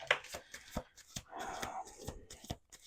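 Tarot cards being shuffled by hand, a quick run of crisp riffling snaps and soft slides in an irregular rhythm, close and fairly loud, with no talk.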